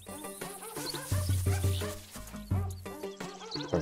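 A dog-like barking cry from The Legend of Zelda: Link's Awakening plays in repeated short yips over looping game music, fairly close and clear.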